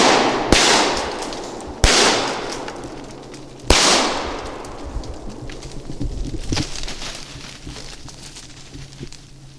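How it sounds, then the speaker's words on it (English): Three sharp, loud gunshots ring out outdoors in the woods during a squirrel hunt with a dog, spaced a second or two apart, each followed by a short echoing decay, then quieter rustling and faint ambient noise. "Shoot him, Jack."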